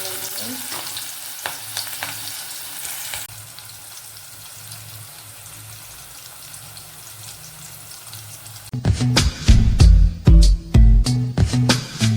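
Cinnamon and cloves crackle in hot oil, a steady frying hiss that turns into louder, sharper sputtering and popping in the last few seconds, close by with no talking.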